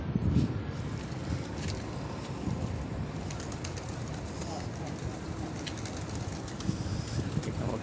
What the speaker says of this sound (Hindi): एक कबूतर बैठा हुआ मिला भी अभी अभी